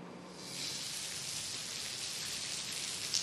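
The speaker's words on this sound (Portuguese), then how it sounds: "Começou a chover um pouco mais forte neste momento aqui no município de Chapecó também" Heavy rain pours down in Chapecó during a storm, a steady dense hiss of drops on surfaces, even and continuous throughout with no voices.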